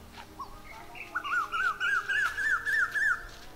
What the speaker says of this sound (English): What is that name of the bird?